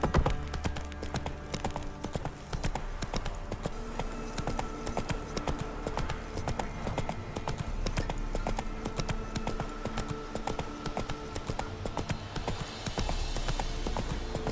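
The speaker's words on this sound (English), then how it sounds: "Come on, Roach" Hooves of the horse Roach clip-clopping in the video game The Witcher 3, a steady clopping gait set in a dense game soundscape with a low hum and background music.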